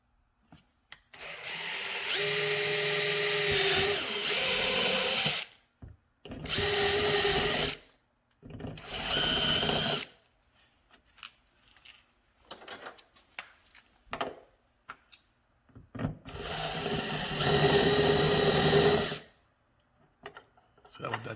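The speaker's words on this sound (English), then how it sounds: "Now we're drilling our holes." A power drill whirs in several long bursts, loud and close, separated by short pauses, with some talking in between, drilling holes in a 2014 Dodge Charger to mount a spoiler and wickerbill.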